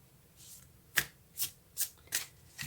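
Tarot cards being shuffled and drawn, a series of about five crisp, close riffling flicks in an uneven rhythm over a quiet background, no voices.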